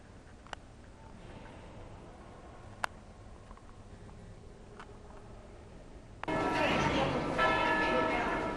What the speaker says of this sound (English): I wanted you to hear the bells from the Duomo